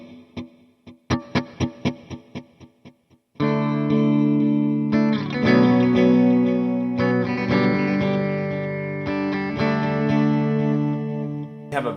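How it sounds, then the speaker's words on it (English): Electric guitar played through a simple delay set to a high mix: a few plucked notes repeat in echoing trails, then sustained chords ring out with thick, smeared repeats washing over one another, fairly loud and alone. "We have a simple delay set up like this with a pretty high mix."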